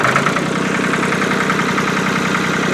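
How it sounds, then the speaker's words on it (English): A Ford 4000 tractor's diesel engine runs close by with a steady, loud, knocking idle that holds an even rhythm throughout. "There she is, running again."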